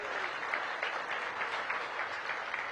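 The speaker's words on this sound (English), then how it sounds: "Give our DC government employees a big round of applause." A crowd claps steadily for DC government employees at the topping-out ceremony of Cedar Hill Regional Medical Center, a dense even patter of applause held at moderate, somewhat distant level throughout.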